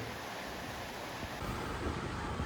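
A stream in an Idukki village flows with a steady, even rush of water that fills the whole stretch, with no voices.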